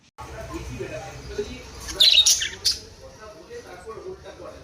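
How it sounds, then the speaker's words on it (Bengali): A short burst of shrill bird squawks rings out midway through, over a quiet background with a soft voice murmuring. "পাখিগুলো এখন এখানে রয়েছে বলে শুধু ওদের চিৎকারটা একটু শোনো"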